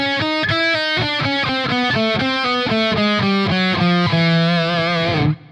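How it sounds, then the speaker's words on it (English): A distorted electric guitar plays a fast descending chromatic run, note after note stepping down steadily before cutting off. "adding chromatic runs. Typically they're descending and they sound really great"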